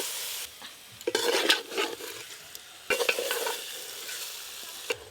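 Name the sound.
sautéing cauliflower, potato and egg with biryani masala and ghee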